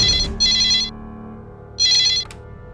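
A telephone rings in an office with two loud electronic trilling bursts, each about half a second long and separated by a short pause, close and clear with no talk over it.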